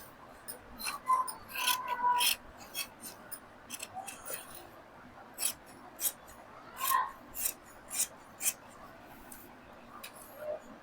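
Scissors cut through blouse fabric at close range in a series of short crisp snips and slicing rasps, some clustered and some spaced apart, over a quiet background.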